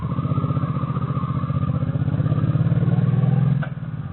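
A motorcycle engine thrums steadily on a short morning ride to work, a close, pulsing low rumble that builds slightly before easing off near the end, with no talking.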